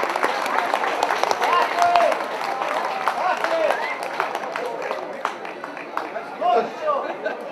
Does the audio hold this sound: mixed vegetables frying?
no